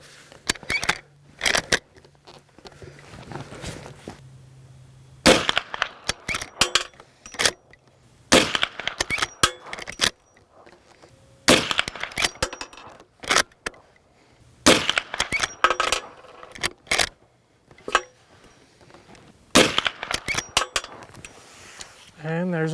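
A Marlin 1894 lever-action rifle in .44 Magnum fires handloaded rounds with Swift A-Frame bullets: several sharp, loud reports spaced a few seconds apart, each followed by brief clatter, with quiet gaps between.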